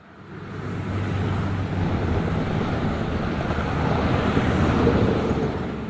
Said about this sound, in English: I'm using this one for the traffic ambience.